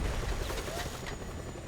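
A helicopter in the Just Cause 2 video game, its rotor chop rumbling steadily with bursts of gunfire crackling over the top in a short, busy stretch.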